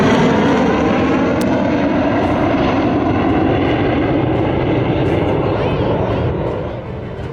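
A fighter jet roars loud and near over the Purvanchal Expressway in one broad, continuous rush of engine noise that fades slightly toward the end, with no voices.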